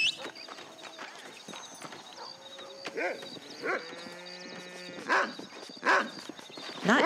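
In Red Dead Redemption, a horse's hooves clip-clop in short bursts and a whinny rises midway, with a dog barking and someone talking in between.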